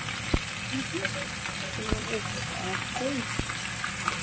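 Fish frying in a pan, a steady close hiss and crackle of hot oil, with occasional sharp clicks and faint voices in the background.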